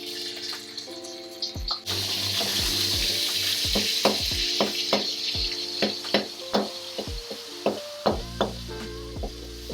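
Saltfish hits hot oil in a smoking wok for Thai-style fried rice, bursting into a loud sizzle that continues under repeated metal spatula taps and scrapes, close by and without voices.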